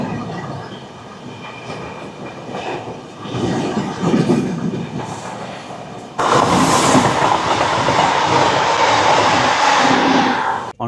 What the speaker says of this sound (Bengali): ট্রেন আমাদের ক্রস করছে দাঁতন স্টেশন।